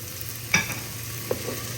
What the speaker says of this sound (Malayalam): നന്നായിട്ട് പച്ചമണം മാറുന്നത് വരെ വഴറ്റി കൊടുക്കുക